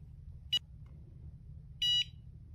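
A Dogtra PATHFINDER2 device beeps during a firmware check: one short electronic beep, then a longer double-toned beep about a second later, both sharp over faint background hum.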